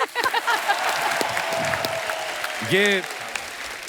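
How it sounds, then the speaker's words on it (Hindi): A studio audience claps on a comedy talk show, a bright burst of applause running under lively voices, with a short sung phrase breaking through partway. "जोरदार तालियां।"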